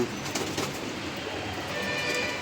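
Racing pigeons coo softly in a low, rolling murmur in a loft room amid steady background noise, close and continuous throughout.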